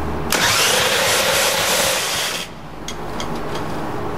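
Mariani dragster engine fires for the first time, bursting into a loud, roaring run for about two seconds before cutting out, leaving a few sharp pops and quieter rumble afterward.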